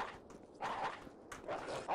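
Dogs bark in the video game Postal 2, a few short yapping bursts that come in quick succession, quiet and somewhat distant.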